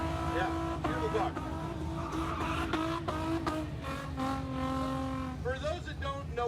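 A naturally aspirated four-rotor Supra race car at a motorsport event, its high-pitched engine rising and falling through revs with shifting tones and tyre squeal, loud and close with a background voice.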